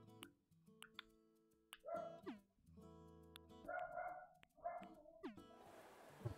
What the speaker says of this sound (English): If you can hear that dog, that's not ours.